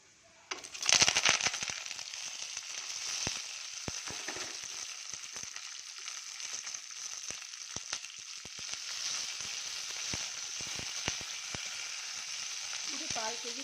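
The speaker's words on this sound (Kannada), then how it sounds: "ಇದೆಲ್ಲ ಚಟಪಟ ಅಂತ ಸಿಡಿಲಿ." Cardamom, spices and curry leaves crackling and sizzling in hot oil during tempering, a steady loud hiss dotted with quick popping spatters, close up, with no talking over it.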